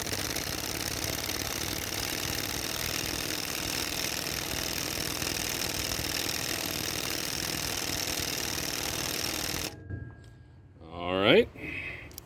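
An impact wrench hammers steadily for about ten seconds, driving a wheel stud installer tool on the rear axle of a 1998 Dodge Dakota, loud and close. It then cuts off, and a brief rising voice follows.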